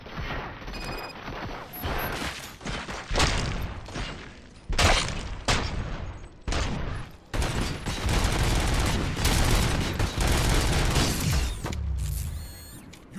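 Sustained gunfire from RoboCop: Rogue City rattles in dense bursts, with heavy impacts, mechanical clanks and ratcheting sounds, loud and continuous for about twelve seconds before tapering off.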